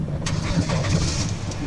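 A car engine cranks and catches, then settles into a steady running rumble for a second or two, with no one speaking over it.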